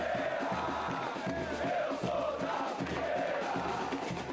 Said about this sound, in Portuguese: A pequena torcida do Coxa, até então calada, desperta no Moisés Lucarelli